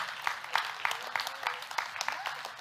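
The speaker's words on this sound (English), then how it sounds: "a reserved clapping, a little nervous" Reserved, nervous audience clapping in a hall: scattered, uneven claps that stay light and thin, with a few overlapping hands but no full applause and no talking.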